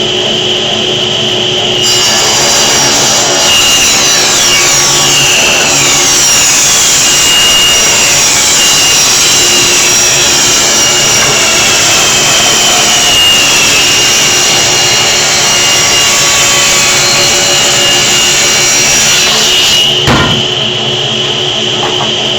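A table saw without a splitter or anti-kickback protection rips a wooden board for jewelry box trim, a loud continuous whining cut sustained for about eighteen seconds before spinning down.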